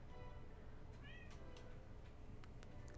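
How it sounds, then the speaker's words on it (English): A brief, high cat meow rises and falls once over a steady low hum, with faint clicks scattered around it. "can hear the cat meowing again."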